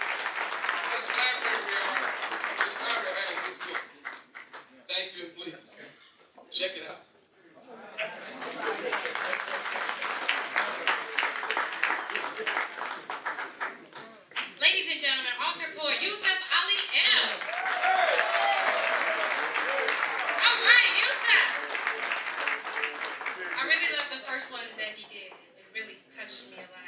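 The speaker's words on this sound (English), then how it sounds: "Let's clap our hands" An audience at a Black history event applauds and claps along in long bursts, with pauses, shouts and voices breaking in between the waves of clapping.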